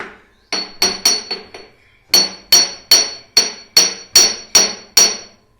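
Sharp, ringing knocks on a hard stone grinding mortar (kharal), struck about a dozen times in a steady rhythm with a short pause after the first few.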